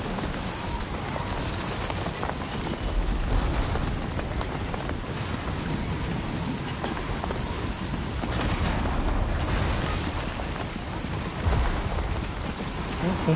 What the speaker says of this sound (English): These lightning strikes are close.